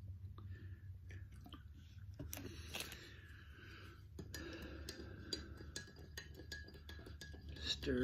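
A spoon stirs lemon drink powder into water in a mug, giving scattered light clinks and scrapes against the mug over a low steady background hum, with no speech.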